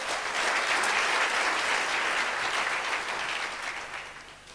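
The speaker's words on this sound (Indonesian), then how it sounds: "Tepuk tangan yang dahsyat." A church congregation bursts into dense, sustained applause, loud and full for several seconds before gradually tapering.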